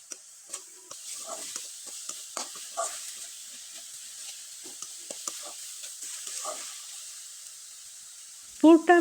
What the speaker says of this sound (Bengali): এখন খুব ভালোভাবে নেড়েচেড়ে এই পুরটা কিন্তু শুকনো করে তৈরি করে নিতে হবে।